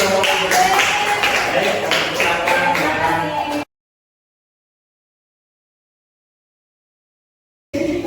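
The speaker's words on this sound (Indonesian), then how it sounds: "Oke, tepuk tangan dulu." Classroom applause from students, a brisk burst of many hands clapping for about three and a half seconds before cutting to silence, then briefly resuming at the end.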